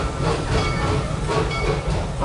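The Serengeti Railway ride at Busch Gardens Tampa rolls along with a loud, steady rumble and rattle of the carriages, with faint clicking and hiss over a continuous low drone.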